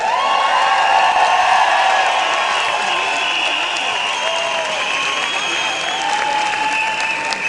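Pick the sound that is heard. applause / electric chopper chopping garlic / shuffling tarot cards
applause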